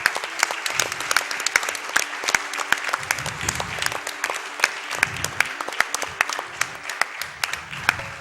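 Sustained crowd applause at a speedrunning marathon event, with dense, steady clapping throughout, loud and close, with a few sharper individual claps standing out.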